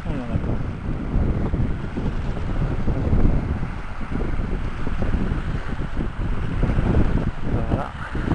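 Chilly wind blows across the North Sea shore in Zeeland, buffeting the microphone with a constant loud, rough roar that swells and eases throughout.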